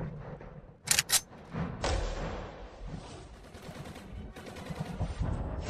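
Gunfire in a tense dramatic scene, a couple of sharp close shots early on followed by a rumbling burst and further scattered reports, mixed with background action noise.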